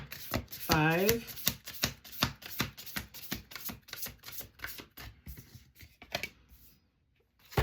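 Tarot cards are shuffled in quick, rhythmic bursts of crisp papery clicks and slaps at close range, with a brief voice sounding early on and a quieter pause near the end.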